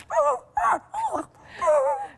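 A dog on CCTV footage gives four short, whiny barks and yelps in quick succession, moderately loud, with no speech over them.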